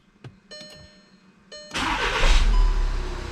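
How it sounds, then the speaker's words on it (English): A car's engine cranks and fires up after a FlashZilla TuneZilla Malone Stage 1 tune install, a few faint clicks first, then the starter catches and the engine settles into a loud, steady idle close by. "we will start the car"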